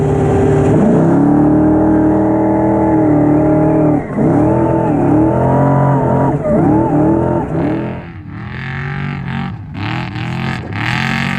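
Loud, close off-road race truck engine hammering through qualifying at Primm, Nevada, revving hard with rising and falling pitch sweeps across gear changes, then dropping into rougher, choppier throttle bursts near the end.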